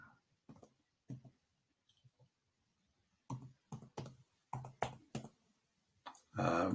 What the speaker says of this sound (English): As you're typing this, the typing has got to be precise